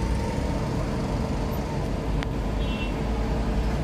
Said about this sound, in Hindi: और ये पूरा यहाँ ट्रैफिक लगा हुआ है।